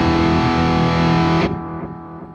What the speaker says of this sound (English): I can switch, let's say, to an analog delay here. So you can hear those are darker.